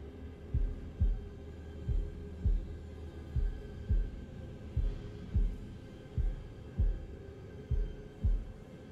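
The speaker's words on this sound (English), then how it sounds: "It's probably going to give me a heartbeat sensor." Slow, steady heartbeat thuds from a heartbeat sensor in The Devil in Me, a lub-dub pulse repeating roughly every second over a low ambient hum, with no talking.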